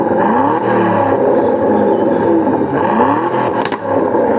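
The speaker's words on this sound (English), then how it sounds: "Let's have a listen to this engine." An Aston Martin DB12 Volante sports car engine revs loudly and repeatedly, rising and falling in pitch with a throaty roar and a brief crackle near the end.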